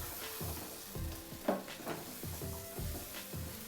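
A thick pumpkin-cucumber barfi mixture with white sesame seeds being stirred in a pan, soft repeated scraping strokes at a steady pace with one sharper knock of the spoon, quiet and close, no talk.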